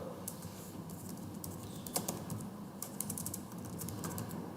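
Fingers type on a computer keyboard in quick, quiet, irregular clicks, with slight room noise underneath and no talking.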